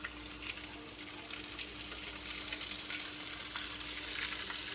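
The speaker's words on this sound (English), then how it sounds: "Let those fry up for a minute, and then I'll flip them" Cube steak frying in hot oil in a pan gives a steady, bright crackling sizzle throughout, soft and continuous with a faint low hum underneath.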